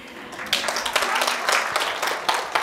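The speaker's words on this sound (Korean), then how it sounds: "저렇게 박수를 쳐주시는 분이 계시면은 박수 쳐야 돼 먼저" A lecture audience breaks into applause, individual claps standing out in a loose, uneven rhythm that grows fuller after a quiet opening and stays lively to the end.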